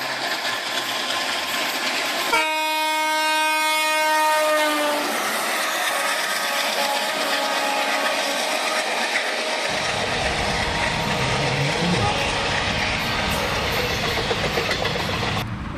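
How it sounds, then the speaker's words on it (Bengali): A cartoon train blares a loud, sustained horn as it pulls into a station, then keeps rumbling and clattering along the rails for the rest of the stretch, with no voices. "হঠাৎ দেখি ট্রেন জোরে হর্ন মারতে মারতে স্টেশনে চলে আসলো।"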